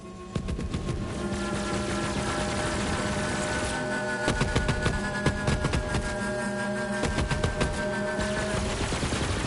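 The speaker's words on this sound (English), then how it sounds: "Shoot those things!" Rapid automatic gunfire from a PS4 shooter crackles in dense bursts over a steady droning hum and a rising tonal whine, loud and continuous without speech.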